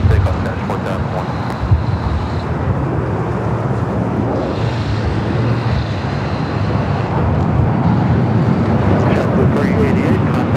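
A Boeing 737-900ER jet airliner takes off at Los Angeles airport, a steady loud broadband roar of engines dominating throughout, with radio chatter faintly mixed under it.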